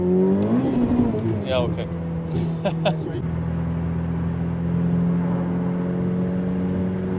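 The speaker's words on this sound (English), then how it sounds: "let's now drive a little bit on the Autobahn with the 488 Pista" Ferrari 488 Pista supercar accelerating on the Autobahn with two heavy occupants aboard, a steady, loud interior engine drone climbing in pitch, with brief speech near the start.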